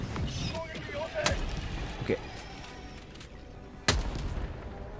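Helldivers 2 game explosions boom in sharp bursts, two louder blasts standing out over a busy background of smaller effects.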